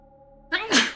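A single sharp sneeze, loud and close, bursting out of a quiet background with a brief inhaled build-up before the explosive release, during an online card game session.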